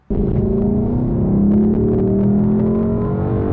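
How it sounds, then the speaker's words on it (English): A Lexus LC500's naturally aspirated engine roars to life and revs loudly and steadily, its pitch slowly climbing, close by with no talking. "Let's make some noise with a naturally aspirated engine."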